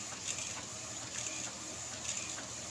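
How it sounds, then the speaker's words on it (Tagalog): Inkjet printer head carriage shuttling back and forth inside a printer running pigmented ink, a soft steady mechanical whir with faint periodic ticks, heard alone and fairly quiet. "Ito yung printer head carriage."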